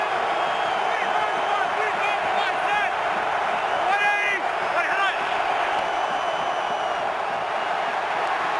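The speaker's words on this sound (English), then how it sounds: "and this crowd is louder than it's been all day." Packed stadium crowd roaring at a 2011 NFC Divisional Round football game between the Giants and Packers, a steady loud wall of cheering and whoops that holds for the whole stretch.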